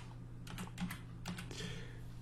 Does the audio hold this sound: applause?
no